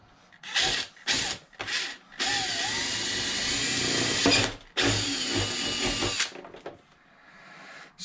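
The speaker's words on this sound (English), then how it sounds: "So I drill into the plexan" Power drill boring into a Plexan polycarbonate windshield for an Arrma Mojave 8s RC car, several short bursts then one long whine with revving changes, stopping and starting near the mic.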